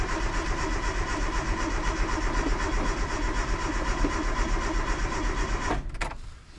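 Car engine cranking and running steadily after a brake bleeding job, a continuous mid-pitched hum that cuts out abruptly near the end.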